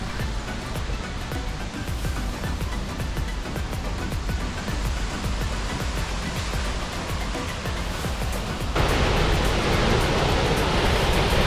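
Krimml Waterfalls in Austria, a tall tiered cascade about 1,247 feet high, roar as a steady, dense rush of falling water that swells slightly louder near the end, with no voices.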